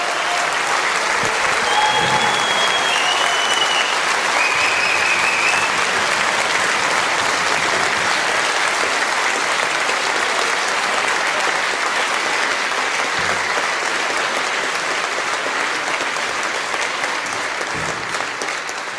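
Snooker crowd applauding at the close of a Paul Hunter Classic final, a dense, loud, sustained roar of clapping that holds steady throughout, with a few faint whistles and cheers over it.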